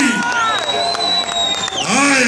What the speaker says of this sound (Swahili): Wapi makofi ya watu wa Chelsea ndani ya nyumba?